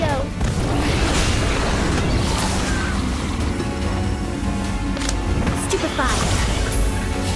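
An Incendio fire spell is cast in the Harry Potter: Magic Awakened video game: loud, continuous rumbling blasts and crackling booms that layer over voices throughout.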